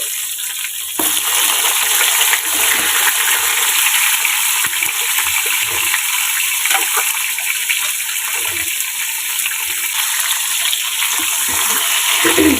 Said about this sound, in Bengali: এবার আমি এর মধ্যে বেগুনগুলো ভেজে নেব তো আমি বেগুনগুলো সব একসাথেই ভেজে নিচ্ছি